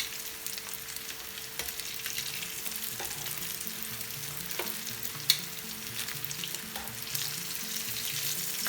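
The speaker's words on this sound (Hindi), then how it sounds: "अपना पराठा रोल फ्राई कर रही हूँ।" A paratha roll fries in a pan, giving a continuous sizzle with occasional small pops and soft scrapes, steady and close throughout, no voice present.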